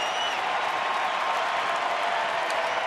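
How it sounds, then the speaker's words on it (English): Crowd noise fills a baseball stadium during a Seattle at Texas game at Rangers Ballpark in the top of the seventh inning, a steady, broad roar of cheering and applause with no clear breaks. "Crowd getting it into it here."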